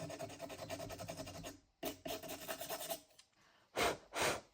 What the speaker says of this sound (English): make the writing come out a bit more by sanding some of the top layer off